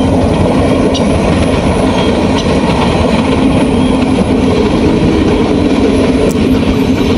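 A train runs continuously, heard from its roof: loud, steady rumbling and rattling with faint clickety-clack and wind, unbroken throughout.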